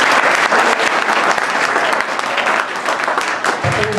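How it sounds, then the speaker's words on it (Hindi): An audience at a 2013 camp gathering claps steadily and loudly for about four seconds, a dense continuous patter of many hands with a voice speaking faintly underneath. "ताली बजाते रहो बेटा, ताली।"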